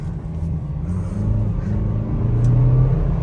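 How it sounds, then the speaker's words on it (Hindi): A BMW X3 luxury SUV in sport mode launches from a brake-held start and accelerates flat out, a deep steady engine rumble heard from inside the cabin that swells slightly as speed builds. "I am flat out on the accelerator"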